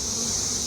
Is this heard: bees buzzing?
yes